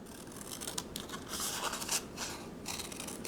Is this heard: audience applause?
no